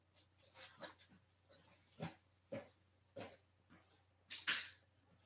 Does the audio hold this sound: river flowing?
no